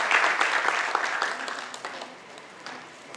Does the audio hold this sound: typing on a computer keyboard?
no